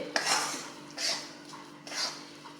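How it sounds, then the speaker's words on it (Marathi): Wheat flour roasting in ghee in a pan for gul papdi, with three separate bursts of scraping and stirring against the metal pan, close and moderately loud, with no talk. "गव्हाचं पीठ भाजून घेत आहे"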